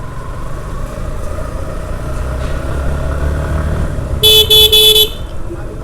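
Vehicle horns honk in Dhaka city traffic, with several sharp loud blasts in a quick cluster near the end over a steady rumble of idling engines and passing auto-rickshaws and motorcycles.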